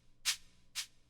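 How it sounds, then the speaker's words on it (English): Two soft, airy shaker hits in a boom bap beat, evenly spaced about half a second apart, bright and brief with nothing else playing. "Then we have the second shaker pattern that sounds like this."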